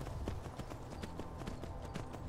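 Frost the horse's hooves clip-clop steadily on the ground in Skyrim, a regular close rhythm of sharp hoof strikes with no voices.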